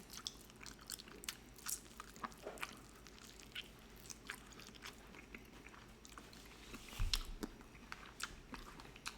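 Mango habanero chicken wing flats from Wingstop being eaten up close: steady wet chewing and crunchy bites with lip smacks, faint and continuous over a low background hum.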